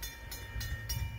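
A very long Norfolk Southern freight train halted in an emergency stop, with a steady low rumble and periodic broadband hissing bursts of air venting from the brakes, moderately loud and close, no talk.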